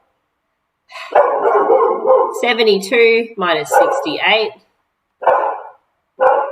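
A dog barks in several short bursts close by, overlapping a person speaking and continuing between phrases in an indoor home setting.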